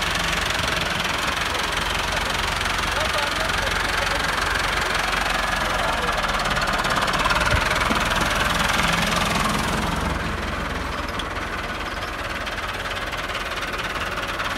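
A Massey Ferguson 375 tractor stuck in a ditch runs with a rough, knocking diesel clatter, steady and close for most of the stretch before easing slightly, with voices faintly underneath.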